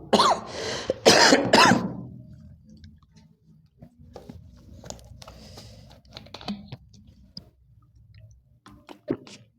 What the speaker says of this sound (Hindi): खांसी हुई है यार